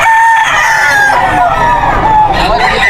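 A gamefowl stag rooster crows loudly and close by at the Bocaue pet market, one long drawn-out call over market background noise.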